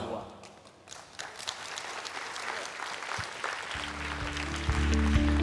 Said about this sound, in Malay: berikan tepukan sekali lagi kepada kumpulan nasyid My Yadim dan Info